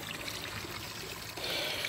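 Water trickles and splashes from a turtle-shaped spitter fountain in a garden, a steady close stream that grows slightly louder toward the end.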